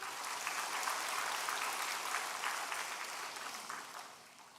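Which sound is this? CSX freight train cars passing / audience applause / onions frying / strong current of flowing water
audience applause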